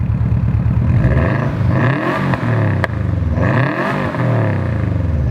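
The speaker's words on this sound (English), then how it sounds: "do you hear the little flop flop? Yeah, rev it." A Subaru engine revs hard in repeated rising and falling sweeps, loud and close, with a rough, flapping exhaust beat running steadily beneath the revs.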